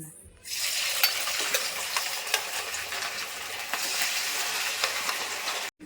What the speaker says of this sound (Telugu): ఇప్పుడు ఇంకా ఫ్రై చేస్తున్నాయి ఇవి